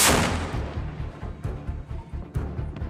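A 5-inch 127mm Mark 45 lightweight naval gun on a destroyer or cruiser fires with one loud opening blast, followed by a long rumbling tail. Several more booming reports follow at irregular intervals, carrying far with no voices.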